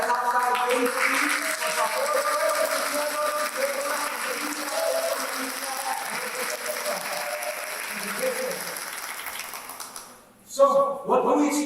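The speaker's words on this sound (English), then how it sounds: "give another round of applause to yourself and to everybody that's outside waiting for you" Sustained applause from an audience at a community celebration event at a college, dense clapping filling most of the clip before it thins out, with voices mixed in.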